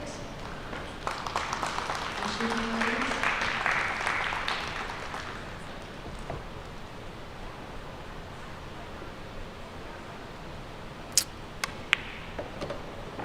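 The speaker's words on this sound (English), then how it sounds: "A round of applause for both the girls." Spectators at a girls' 16-and-under sports event applaud, a moderate wash of clapping that swells over the first few seconds and then fades into background crowd noise, with a few sharp clicks near the end.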